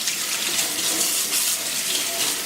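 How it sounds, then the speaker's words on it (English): Fresh peppers rinsed under a running kitchen tap: a steady, loud, close rush of water splashing without a break, with no talking. "you always want to make sure it's nice and rinsed off"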